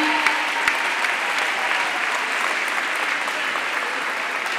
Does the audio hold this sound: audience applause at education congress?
yes